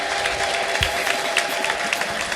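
A church congregation claps together in a steady burst of applause during a worship service, the sound filling the hall continuously, with faint voices mixed in.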